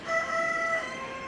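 A rooster at a 4-H and FFA county fair poultry show gives a single drawn-out crow lasting about a second, loud and close, with no talk over it.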